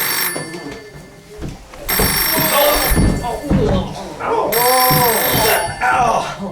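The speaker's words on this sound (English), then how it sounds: "Somebody get the phone." A telephone bell rings in loud repeated bursts indoors, with people talking and shouting over and between the rings.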